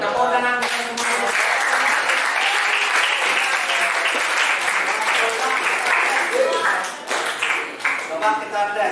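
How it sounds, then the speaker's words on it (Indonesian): Lively classroom applause from a group of students, a loud continuous patter of hand claps that fades slightly near the end, with voices speaking at the start and close. "Tepuk tangan semua."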